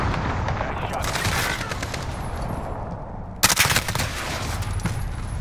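Rapid, loud bursts of AK rifle fire in a video game, close and sustained, with a short lull before a sharper volley of cracks, and a voice talking beneath.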